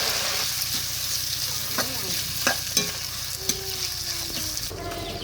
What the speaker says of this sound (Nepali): त्यसपछि गोलभेडा र यो खोर्सानी, जिरा, अदुवा, लसुनको मिश्रणलाई चाहिँ यसरी अब चाहिँ हामी गोलभेडालाई फ्राई गर्छौँ।